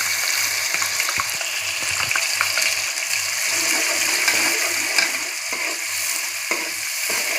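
Ground onion paste sizzles and bubbles in a pan, a steady wet frying hiss with scattered soft scrapes of stirring, close and continuous without talk.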